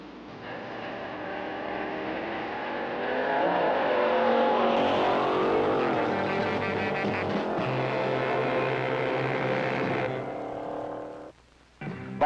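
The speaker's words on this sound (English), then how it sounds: "coupe runs a time trial with a Class A supercharged coupe" Supercharged Class A drag racing coupe on a time trial run gives a loud, sustained engine roar that builds and holds, then drops away near the end.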